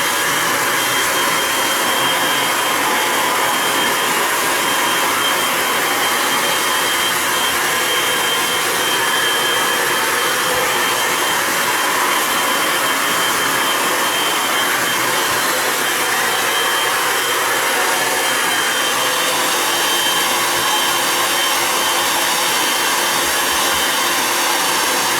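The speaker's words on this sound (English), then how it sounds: "I'm just going to dry it off a little bit so see how it sits" Hair dryer blowing steadily on a hair system during a fitting, a loud, close, unbroken whoosh lasting the whole stretch with no talk.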